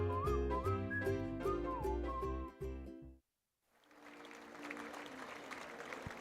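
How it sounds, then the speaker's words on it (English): A baseball crowd at a minor-league ballpark in Altoona applauds a number retirement. Melodic whistling comes first and then breaks off, before a faint, distant wash of clapping and crowd noise swells in. "You can hear by the applause below us just moments ago"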